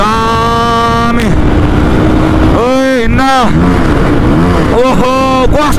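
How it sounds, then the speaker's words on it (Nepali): A motorcycle engine revs hard in Kalanki, Kathmandu, rising and falling through several throttle blips over a steady loud idle, close and continuous. "ओहो कस्तो मिठो पड्क्या त बाइक"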